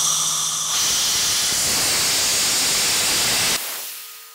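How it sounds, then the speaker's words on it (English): Air rushing out of a dustless blasting pot through its opened blowdown valve as the pot depressurizes: a loud, steady broad hiss that cuts off abruptly near the end, leaving a faint residual tone. "then open the blowdown valve."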